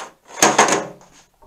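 A drawer of a Kennedy 520 tool box slides along freshly cleaned guides, giving a short, smooth rolling scrape of about a second with soft clicks, heard close and alone.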